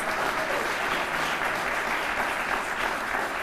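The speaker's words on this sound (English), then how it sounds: "I think that deserves another round of applause." Sustained applause from a large crowd, steady and loud throughout with no pauses.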